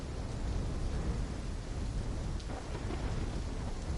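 A thunderstorm in the video game Black Ops 3 gives a continuous roar of heavy rain with low thunder rumbling beneath it, steady and enveloping, with no talk.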